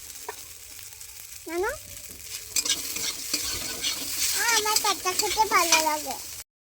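Egg pasta is stirred in a frying pan, giving a soft sizzle with scraping stirs. Someone talks over it with rising, sing-song phrases through the middle and end.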